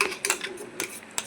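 A spoon scrapes and knocks against a metal pot while a jaggery and tamarind mixture is stirred, giving a quick run of close, uneven clinks and scrapes, with no speech.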